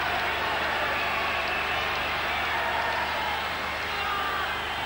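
A wrestling crowd at a 1983 Marty Jones versus Dave Finlay bout roars steadily, a dense, sustained wash of cheering that stays loud and unbroken throughout.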